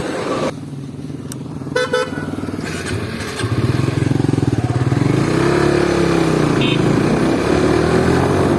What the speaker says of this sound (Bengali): তো মাত্র পাসিং হয়ে গেল এইটা এফজেড ভার্সন 2